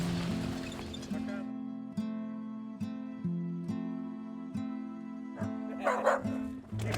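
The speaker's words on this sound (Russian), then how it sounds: "Вот наглая собака нас загнала в лапу, еще и гавкает" A dog barks repeatedly in a steady rhythm during a trip down the Lena River, close and fairly loud, with brief noise toward the end.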